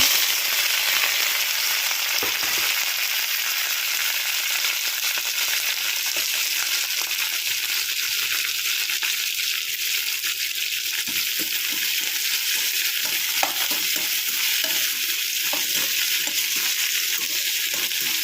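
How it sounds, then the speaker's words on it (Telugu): Curry leaves, onion, ginger and green chillies frying in a pan with roasted peanuts and dal for poha, a loud continuous hiss and sizzle with occasional stirring, no talking. "పప్పు అయితే కాలింది అందులో కరివేపాకు కరివేపాకు ఉల్లిపాయలు అల్లం పచ్చిమిర్చి వేస్తున్నాను"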